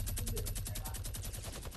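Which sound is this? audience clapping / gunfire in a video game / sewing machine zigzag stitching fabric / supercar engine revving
gunfire in a video game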